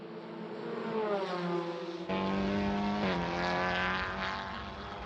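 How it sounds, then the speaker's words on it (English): A Honda Civic TCR race car screams past on the Portimão circuit in TCR Europe qualifying, its loud high-revving engine note rising and falling as it passes close with no commentary. "That is Girolami that we just seen exiting the shot there in the brand new Honda Civic"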